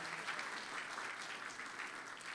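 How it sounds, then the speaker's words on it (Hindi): Dense, continuous applause from a church audience at a Sunday school Christmas celebration, heard alone at a steady, moderately distant level. "जोरदार तालियां"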